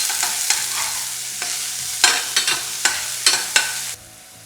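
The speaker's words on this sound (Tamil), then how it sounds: "சீரகம் பொரிஞ்சு வந்த பிறகு அதில் ஒரு பெரிய வெங்காயத்தை நல்லா பொடியாக நறுக்கி சேர்த்துக்கோங்க." Finely chopped onion is tossed into hot oil with cumin seeds, giving a bright crackling sizzle broken by several sharp scraping stirs of a spatula before the sound cuts off.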